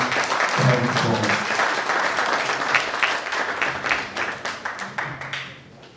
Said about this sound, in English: Let's put our hands together as Pastor Brown comes forward.